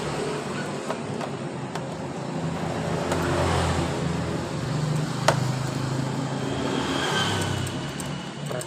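A Honda Beat scooter with a broken ACG sensor cranks but fails to start, its magneto spinning with a steady mechanical whir and low motor drone that swells and eases over several seconds, close and continuous.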